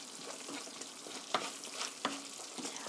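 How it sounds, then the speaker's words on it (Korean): Penne with tomato sauce stir-fried in a pan: a soft, steady sizzle with a couple of sharp utensil scrapes and taps as the food is tossed. "1 minute, stir fry 1 minute."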